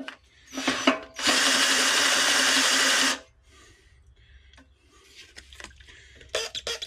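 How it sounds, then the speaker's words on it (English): A battery drill spins a Delapena hand hone while sizing BMW front suspension bushes with kerosene, giving a loud steady whirring run of about two seconds, preceded by brief bursts and followed by quieter handling clatter. "I just use a battery drill."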